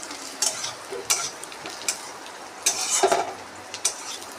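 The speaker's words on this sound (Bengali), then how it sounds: "এখানে পেঁয়াজ ভাজছি" Onions fry in a pan with a constant soft sizzle, broken by several sharp scraping strokes as they are stirred. No one speaks.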